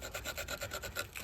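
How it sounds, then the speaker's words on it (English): Sandpaper rubbed back and forth over the sharp edges of a wooden self bow, a rapid rhythmic rasping of about a dozen short strokes, close and fairly quiet. "you want to round those off with some sandpaper"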